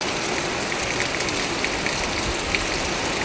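Steady, dense rainfall pours down, a continuous broadband hiss with scattered louder drops, no voices present.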